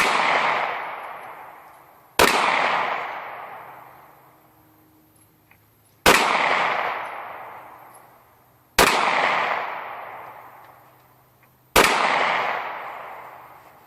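Five sharp, loud gunshots from a Canik TP9SA 9mm pistol crack out one at a time a few seconds apart, each followed by a long ringing decay, with no talking between them.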